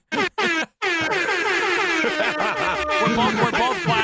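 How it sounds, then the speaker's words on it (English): Air horns blast loudly and close: two short honks with a gap, then one sustained, overlapping wail of several harsh tones that holds unbroken for over three seconds. "we're both blasting our air horns"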